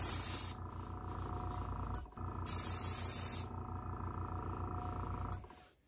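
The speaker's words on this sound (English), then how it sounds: "just do full coverage to make sure you've got a nice smooth coat" An airbrush sprays paint onto an HO scale steam engine kit model, a steady close hiss that cuts in and out in short bursts over a low background hum.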